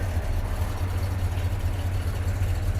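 A 1972 Chevrolet C10 pickup with a 350 V8 and automatic transmission idles steadily, a deep even low rumble heard close and continuous, with no voices.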